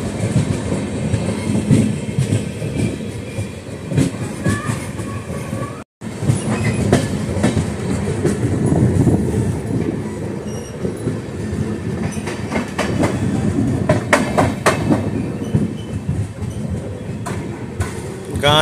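Valsad to Vadnagar intercity express train running at speed, with a steady loud rumble and rhythmic clickety-clack of wheels over rail joints, heard from on board with a brief cut partway through.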